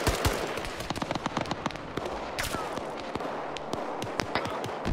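Gunfire from enemy special forces in a video game: dense, rapid bursts of sharp cracks and pops, loud and close, with overlapping shots from several weapons and voices faintly beneath.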